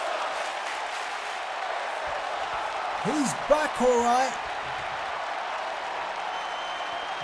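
A wrestling crowd in a New Orleans arena in WWE 2K19 roars steadily through the whole stretch, a broad wash of cheering with a brief swell near the middle while a commentator speaks briefly over it.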